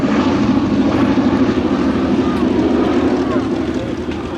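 Engines of the B-17 bomber Sally B drone steadily at an airshow, a loud, constant propeller rumble that holds for the whole stretch and fades slightly at the end.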